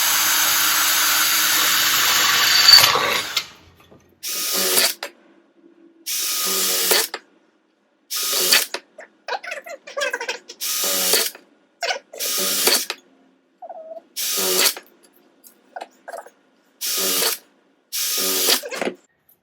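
A power drill bores holes into lightweight tin cans for a camp stove build, running in about ten short loud bursts separated by brief silences, with a sustained whir opening the sequence.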